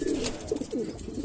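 A racing pigeon coos softly and close by, a few low throaty rolling calls repeating within a second or so.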